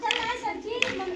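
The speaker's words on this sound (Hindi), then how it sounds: "तालियां भाई" Children playing an outdoor kabaddi game get a brief burst of clapping, with kids' voices and an adult calling out over it.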